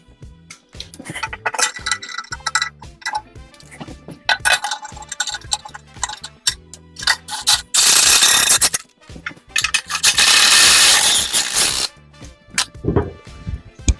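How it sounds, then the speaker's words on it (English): Metal bolts clinking and ticking against an aluminum oil pan as bellhousing bolts are threaded in by hand on an LS engine install, a close series of small irregular clicks with two louder bursts of broadband rattling noise midway. "These bottom bolts going into the oil pan, I'm going to start by hand."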